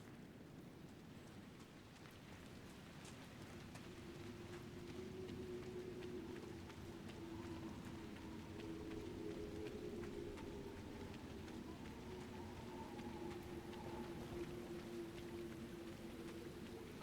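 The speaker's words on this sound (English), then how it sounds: "I like rain." Soft, steady rain falls in Dragon Age Inquisition, a faint hiss beneath a low droning tone and scattered bird-like calls, holding even throughout without talk.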